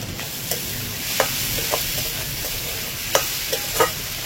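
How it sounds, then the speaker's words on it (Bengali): Spoon stirring chili powder and garam masala through oil in a frying pan for egg bhurji, a steady low sizzle with scattered scraping clinks, close and continuous, no voices. "এইবার এটাকে ভালো করে মিশিয়ে নেব"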